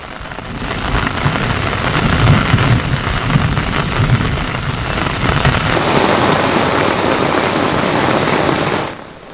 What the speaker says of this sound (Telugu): హైదరాబాద్ సిటీలో మళ్ళీ కుండపోత వర్షం కురిసింది